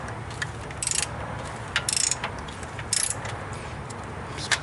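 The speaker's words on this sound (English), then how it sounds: "Now just take a minute and spin the crankshaft around to make sure none of these lifters are binding." A ratchet turns the crankshaft of a Chevy 5.3 Vortec LS engine, with several quick bursts of close clicking pawl spins separated by short pauses over a quiet background.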